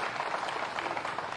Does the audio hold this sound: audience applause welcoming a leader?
yes